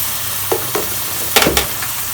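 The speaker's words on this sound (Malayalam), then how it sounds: "ഇനി ഇതിലോട്ട് നമുക്ക് ചിക്കൻ ആഡ് ചെയ്ത് കൊടുക്കാം." Chicken pieces frying in a pan as a pasta sauce cooks, with a steady sizzle broken by several close scraping stirs and clatters, one louder burst near the end.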